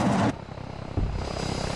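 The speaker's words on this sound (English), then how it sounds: "that was the sound of a pilot ejecting that from the VTOL." In the video game Arma 3, a pilot ejects from a VTOL aircraft: a sudden loud burst of rushing noise cuts off into a steady engine drone, then a second thump lifts the roar again.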